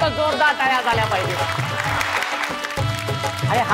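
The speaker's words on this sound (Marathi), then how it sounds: "जोरदार टाळ्या झाल्या पाहिजे" A game-show audience bursts into lively applause before a musical chairs round, steady clapping mixed with crowd noise and music, with a voice talking over it.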